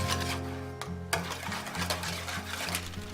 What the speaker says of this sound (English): I put 1 egg yolk at a time and I mix.